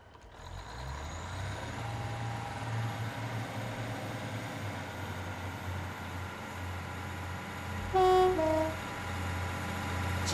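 A UK diesel passenger train on the Midland Main Line sits at a steady low idle, its brakes releasing with a brief hiss and tone, while a two-note chime rises near the end as it begins to move off, with no talking.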